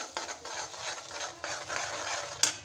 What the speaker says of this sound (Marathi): चमच्याने चांगलं मिक्स करायचा.